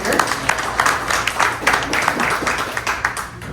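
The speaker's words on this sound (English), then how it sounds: "Let's give them a round of applause." Applause from an audience welcoming two candidates at a county House of Representatives candidate forum, a brief burst of clapping that blends with the hubbub of the room.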